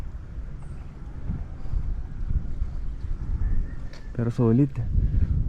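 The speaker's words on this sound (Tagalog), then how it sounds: "Solid yung hangin dito. Malamig." Wind buffets the microphone on an open rooftop sky plaza in Natividad, Pangasinan, a steady low gusty rush throughout, with someone speaking briefly near the end.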